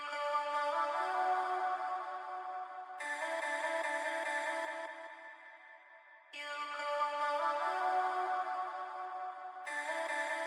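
Synthetic trap beat built from a pitched, chopped melodic riff taken from the Whiteout sound kit, repeating bright layered synth stabs in a steady loop that briefly thins out and drops back in, played alone without any voices.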